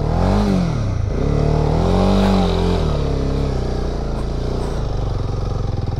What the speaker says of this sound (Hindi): इस बालू पे मैं इस बाइक को जो है वो चढ़ाता हूँ, फर्स्ट गियर पे ही हूँ, और मैं बहुत ज़्यादा आरपीएम रेव नहीं करूँगा।